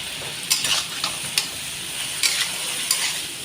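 Ginger-garlic paste and chopped tomato sizzle in a hot pan, a steady frying hiss with a few sharp crackles and stirring clicks, close and alone without talk.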